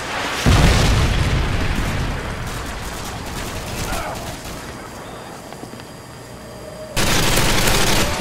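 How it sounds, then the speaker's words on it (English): Heavy explosion from a Predator missile strike in a Call of Duty Modern Warfare 2 Team Deathmatch match, a loud booming blast that rumbles and fades, followed by another burst of loud rumbling noise near the end. "Predator missile incoming."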